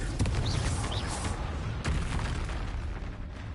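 In the video game Hogwarts Legacy, a Confringo spell goes off as a fiery blast, with sharp bursts and booming rumble over dense game noise and a few whistling tones, loud and continuous.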